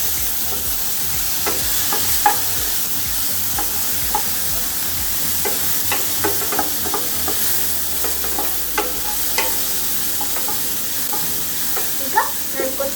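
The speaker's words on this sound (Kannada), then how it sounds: "ಈಗ ನಾನು ಮಿಕ್ಸ್ ಮಾಡ್ಕೊತಿದ್ದೀನಿ, ಫ್ರೈ ಮಾಡ್ಕೊತಿದ್ದೀನಿ" Ginger, garlic and tomato frying in a pan for a fish green masala, a steady close sizzle broken by scattered scraping clicks of stirring throughout.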